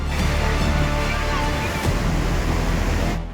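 Torrential flood water roaring out through six dam crest gates during heavy monsoon rain, a loud, steady broadband rush that holds without a break before easing off at the very end.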